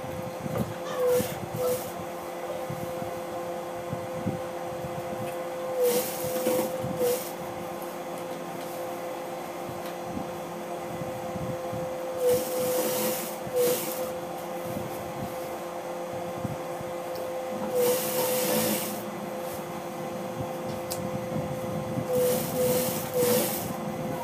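Sewing machine stitching elastic onto the inside of a frock being turned into a skirt, with several bursts of whirring running between pauses amid a steady background hum.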